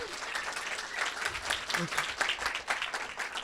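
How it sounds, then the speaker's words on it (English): An audience at a diversity and inclusion celebration event applauds with dense, steady clapping that fills the whole stretch at an even level. "So can I get a round of applause for that?"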